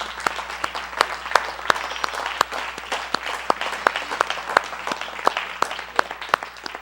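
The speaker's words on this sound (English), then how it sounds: "Give Miss Yahu a hand clap, because he's worthy." Congregation applauding during a synagogue live stream service: a steady wash of crowd clapping with sharp, prominent individual claps standing out at an irregular rhythm, moderately loud and sustained, with no clear speech on top.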